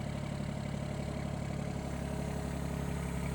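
Low, steady idle of a LiuGong 9027F wheel loader's engine held at low RPM, a constant close drone with a faint rhythmic throb and no talk.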